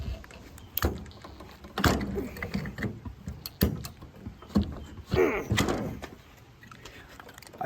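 A stuck handle on a Symmons tub shower valve is wrenched and broken off, heard as several sharp cracks and knocks with creaking, scraping strain between them, close and fairly quiet.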